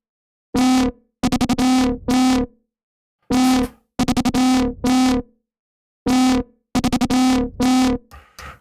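Distorted bass synth patch built in Xfer Serum for drum and bass, playing short gritty stabs in repeating phrases of one long note followed by quick stuttered hits, loud and dry with silences between phrases, no talk.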